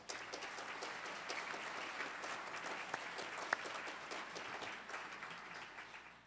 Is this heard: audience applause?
yes